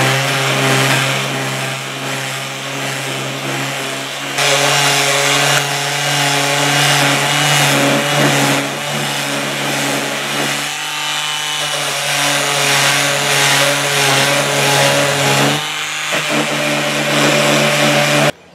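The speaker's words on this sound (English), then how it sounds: "I'm going to use my Dremel to take off most of these edges" A Dremel rotary tool grinds the rough edges off a homemade relic sifter, a loud high whine running in long bursts with brief pauses and shifts in pitch as it bites the workpiece.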